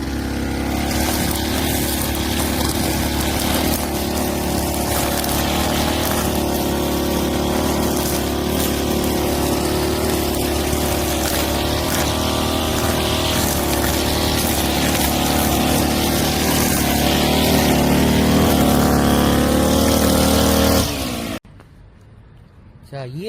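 A brush cutter fitted with a combined blade and nylon line runs close and loud with a steady, buzzing engine drone for a long stretch while cutting, then cuts off abruptly near the end.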